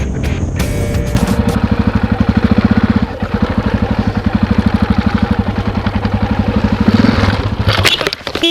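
An off-road motorcycle engine roars close by, its rapid pulsing exhaust note steady and loud, swelling briefly as it revs near the end.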